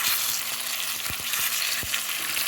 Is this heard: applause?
no